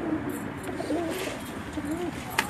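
Pigeons on a rooftop in Jeddah, Saudi Arabia, give several soft, rolling coos close by, repeating in short phrases over a light background hiss, with a faint sharp click near the end.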